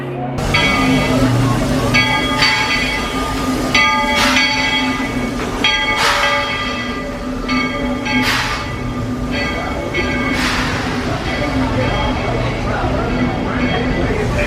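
Steady rumble of a moving Disneyland theme-park railroad train heading to Splash Mountain, with recurring horn-like tones and rhythmic clatter over continuous background noise and some voices.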